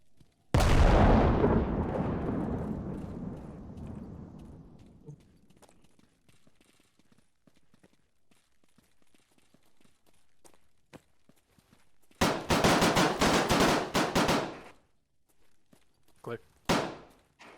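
A frag grenade explosion erupts loudly near the start and rumbles away over several seconds, followed by quieter shuffling and, later, more sharp loud bursts of noise.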